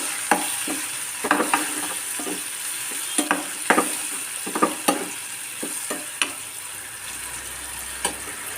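Ground tomato sautés in hot oil for a dried anchovy curry, a steady close sizzle broken by repeated sharp clicks and scrapes of a spoon stirring against the pan, with no talk.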